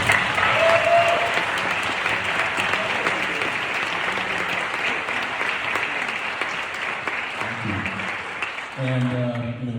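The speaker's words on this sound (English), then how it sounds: "So please give these folks a round of applause." An audience at a university jazz orchestra concert applauds the stage crew: sustained dense clapping that fades out near the end, then a voice begins speaking over the room.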